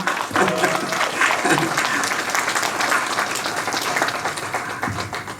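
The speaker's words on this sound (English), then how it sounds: "So can we get an applause to all the Mrs. 18 Clan Council?" Steady applause from an audience at a community clan council gathering, dense clapping sustained throughout with faint voices mixed underneath.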